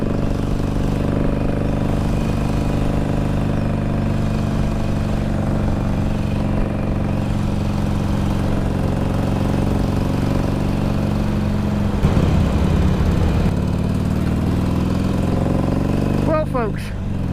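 A Harley-Davidson 883 Sportster motorcycle engine drones steadily while riding along a country road, a loud, close rumble with a brief rise in revs near the end.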